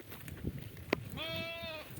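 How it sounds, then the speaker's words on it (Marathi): A sheep gives one short, faint bleat out in a grassy field, a wavering call heard once after a brief knock, amid quiet outdoor background. "अशी गौरी पण खूप हुशार मेंढी आहे"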